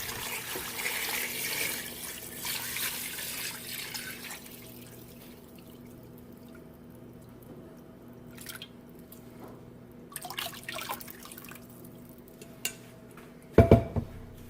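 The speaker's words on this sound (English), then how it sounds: "the last thing I'm going to add is 5½ quarts of filtered water" Filtered water pours steadily into a chicken stock pot, a soft running hiss at the start, then quieter drips and a few clinks of metal pot and utensils near the end.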